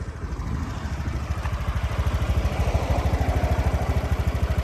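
A Honda Dio 110cc fuel-injected scooter engine (2016) idling close by, a steady rapid putter with a slight rise in volume, no speech.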